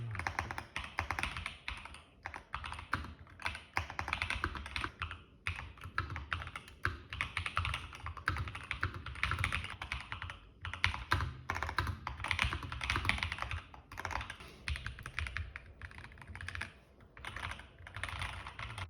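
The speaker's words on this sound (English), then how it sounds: "typing on the TMICE X keyboard is quite noisy" Fingers type steadily on a TMICE X mechanical modular keyboard, a close, continuous run of sharp key clicks and clatter with short pauses and no talking.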